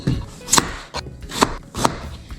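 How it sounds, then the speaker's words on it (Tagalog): Unpeeled potatoes are chopped with a knife on a cutting board: four or five distinct, crisp chops spaced unevenly against a quiet background, no talking. "ito na yung ating mga patatas, hiwain na natin"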